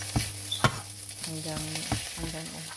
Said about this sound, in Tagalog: Tapos, haluin natin siya.